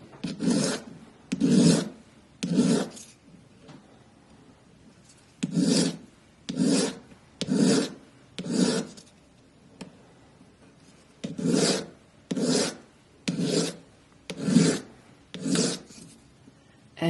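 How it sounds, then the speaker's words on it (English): Hand sanding of a gold and silver earstud with 240 grit sandpaper, rapid rasping strokes coming in short bursts, close and fairly loud, with brief pauses between groups of strokes. "I'll clean up the bottom just a bit with a 240 grit sanding paper."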